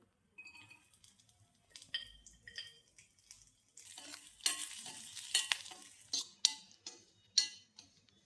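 Grated coconut roasting in a pan, soft scattered crackles and ticks with quiet scraping strokes of a spoon that grow busier and louder toward the end.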